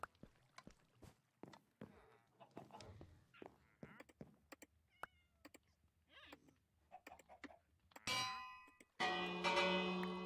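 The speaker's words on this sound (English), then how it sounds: "Do we actually have a bell at the school?" A bell in Minecraft rings out near the end, with a short metallic strike followed by a louder, sustained ringing tone. Scattered clicks and small game noises come before it.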